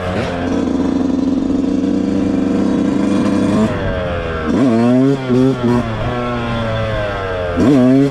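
A dirt bike engine revs hard and steadily, then drops and climbs through several sharp throttle blips, loud and close with the pitch rising and falling.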